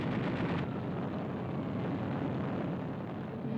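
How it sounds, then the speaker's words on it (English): Explosions from a bombing raid on US aircraft lined up at Clark Field, a dense, continuous loud rumble of blasts with a sharper burst at the start, no talk. "Here, a preemptive bombing raid caught large numbers of US aircraft neatly"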